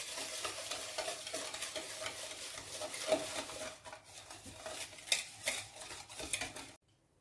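Eggs and sugar whisked in a bowl for anise rosquillas, a steady rapid scraping and clinking of a whisk against the bowl with a few sharper taps, close and fairly loud, without any talk.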